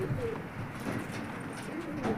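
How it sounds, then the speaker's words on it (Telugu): Pigeons coo in a room on a desert worksite in Kuwait, several soft, low, rounded calls repeating at a moderate distance over a steady background hum. "ఇక్కడ ఉన్నాయి పావురాలు, ఇక్కడ బయట వచ్చినాయి"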